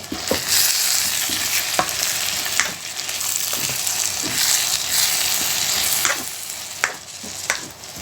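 Vegetable noodles are stir-fried in a pan with a loud, steady sizzle, broken by repeated sharp scrapes and clanks from stirring at irregular intervals.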